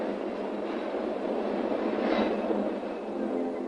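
A PATH commuter train rumbles steadily along the tracks underground, a continuous loud roar with a slight swell in the middle and no voices.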